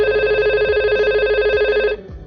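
Simulated analog telephone ringing in a Cisco Packet Tracer VoIP softswitch setup, a steady electronic ring tone held loud and close for about two seconds before cutting off.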